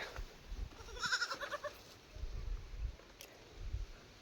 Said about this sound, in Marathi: चला तुम्हाला बकरीचे पिल्लू दाखवतो